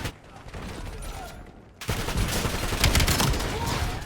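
Rapid gunfire in a Call of Duty match, a quieter stretch of shots and ambient noise giving way after about two seconds to a louder, dense burst of automatic fire that continues to the end.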